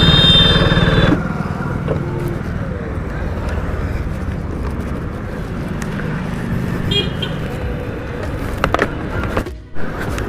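Yamaha MT 15 motorcycle riding on the road, recorded from a helmet, with steady engine drone and wind rumble, passing traffic noise and brief bumps near the end, speech heard in places.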